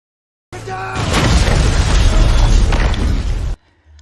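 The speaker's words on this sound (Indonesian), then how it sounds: "serangan utama mereka, yaitu bom bunuh diri yang dibawa oleh Ademar" A suicide bomb detonates in an action film scene, a sudden loud boom that swells into a sustained roaring blast with rumbling debris for about three seconds before cutting off abruptly.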